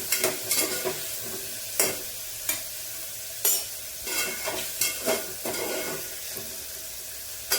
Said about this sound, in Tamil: தக்காளி நல்லா வதக்கிக்கணும்